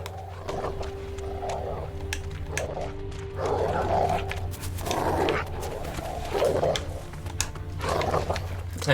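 Dog in The Witcher 3, a series of gruff barks and growls in several bursts over a low droning game background hum.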